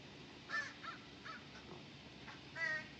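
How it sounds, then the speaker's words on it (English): Crows cawing outdoors, several harsh calls in a loose sequence at moderate distance, with quiet ambient background between them. "I find crows so interesting."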